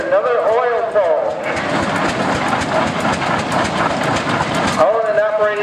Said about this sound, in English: This next prairie tractor, another oil pull.